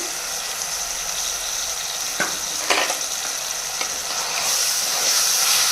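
Gongura chicken pulao sizzles steadily in a hot pan while a spoon stirs and mixes it, with a few sharp scrapes against the pan and the frying hiss growing slightly louder toward the end.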